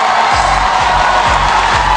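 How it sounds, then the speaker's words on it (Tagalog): A studio audience on a Filipino noontime variety show roars with cheering and shouting, a dense loud crowd wash over rhythmic thumping beats. "humihingi din ako ng masigabong palakpakan at malakas na hiyawan"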